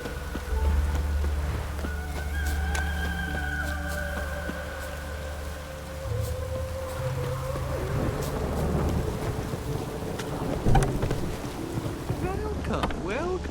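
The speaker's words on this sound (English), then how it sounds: "Looked like it would rain, and here it is." Rain falls steadily with low rumbles of thunder during a stormy scene in the video game The Witcher 3, a dense continuous wash that runs the whole time alongside faint background music and ambient game sounds.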